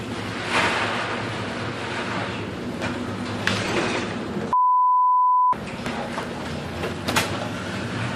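Stormy sea waves churn and crash in a continuous roar, with a steady electronic beep tone lasting about a second cutting in midway before the surf returns.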